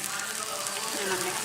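Cream poured into a hot pan of chipotle shrimp enchilada sauce gives a steady, close, broadband sizzle that holds evenly for the whole stretch, with no talking.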